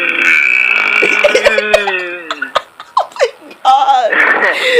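A loud, drawn-out burp at the start, low and raspy, followed by bursts of laughter and lively voices reacting.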